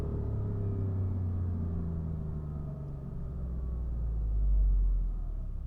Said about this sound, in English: for a V6 bi-turbo, this thing sounds really damn good.